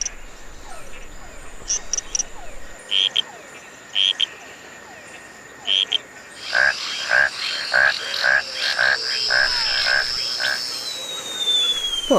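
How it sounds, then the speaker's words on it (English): Frogs call in repeated croaking bursts, sparse at first and then a faster, louder chorus of rhythmic pulses over a steady background hum. "This noise is made by frogs."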